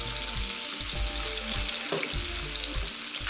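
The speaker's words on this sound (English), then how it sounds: "I have thrown some bacon on here" Bacon sizzles and fries steadily on a Blackstone E-series electric griddle, a loud, dense crackle with occasional scraping stirs, no voices.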